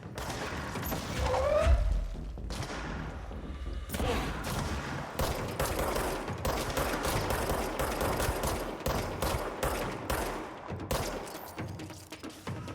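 Enemy gunfire in the video game Control, with rapid repeated bursts and sustained automatic shooting, loud and close, running continuously with a little talk underneath.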